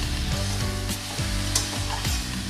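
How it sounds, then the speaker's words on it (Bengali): Radish and prawn curry is stirred in a pan, hissing and sizzling steadily while a spoon scrapes through it in repeated sweeps, producing several distinct knocks against the pan. "দিয়ে আবারও ভালো করে নেড়ে চেড়ে মিশিয়ে নেব।"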